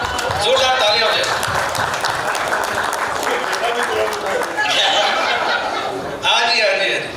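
Loud crowd applause with scattered laughter and chuckles fills a music album launch event, sustained and dense throughout, swelling again near the end.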